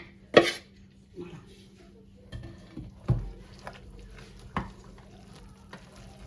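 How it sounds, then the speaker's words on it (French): A big wooden spoon working gougère dough in a pot: scattered soft thumps and scrapes at an uneven pace, with one sharper knock at the start, over a faint steady hum. "Donc là, on mélange."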